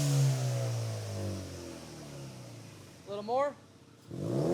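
Ford Mustang EcoBoost, warmed up, with an MBRP XP Series race exhaust, rising in a rev at the start and again near the end, with a short voice in between and a quieter idle stretch.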